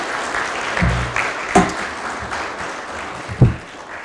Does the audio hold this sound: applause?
yes